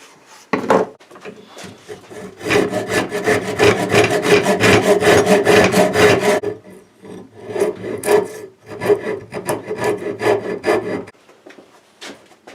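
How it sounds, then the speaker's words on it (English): Chisels carving a wooden lever-action rifle stock, a dense run of rapid scraping, rasping cuts close by, with a short pause before more bursts of strokes and a few sharp taps. "I'm probably going to get the chisels out for this one. We'll be doing some carving for sure."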